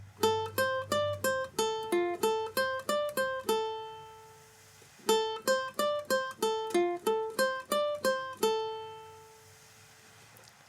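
Close, clean solo ukulele plucks the second section of a cartoon theme as two matching runs of quick single notes, each run ending on a held note, with a brief gap between them.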